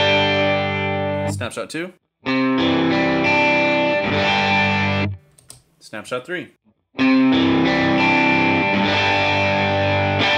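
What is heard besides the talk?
distorted electric guitar through HX Stomp dual amp preset snapshots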